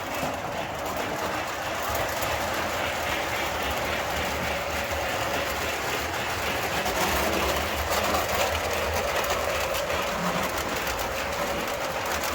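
A model train running on a home layout track makes a steady close rumble with faint clicking of wheels over the rails, continuing throughout while someone talks quietly over it.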